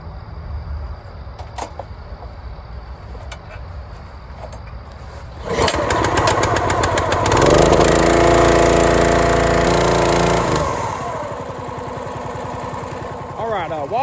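A small gasoline engine, likely on a firewood tool in a nighttime yard, cranks and catches midway, then roars loudly and settles into a steady warm-up idle. Quieter background noise is heard before it starts.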